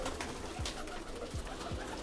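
Rampuri and Teddy pigeons cooing in a loft, soft low coos repeating a few times against a steady background hiss, faint and close.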